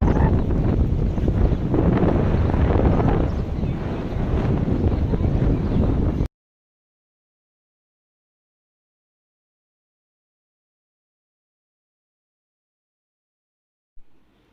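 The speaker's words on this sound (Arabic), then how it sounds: "صوت الهواء بقى هنا كان على البحر عالي جدا" Loud, steady wind by the Red Sea at a Hurghada hotel roars into the microphone for about six seconds, then cuts abruptly to silence.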